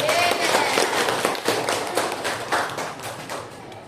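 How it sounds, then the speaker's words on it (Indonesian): Audience at a school event on building students' confidence claps after a closing address, a dense steady patter of many hands close by that gradually thins and softens. "Beri tepuk tangan meriah."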